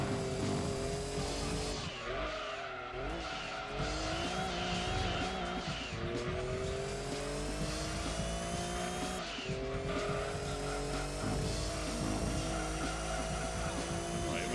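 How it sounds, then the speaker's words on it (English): A car drifts in the racing video game Gran Turismo 2, engine revving and shifting through gears while tires squeal in long sliding bursts, loud and continuous with no talk. "That was understeering drifting there."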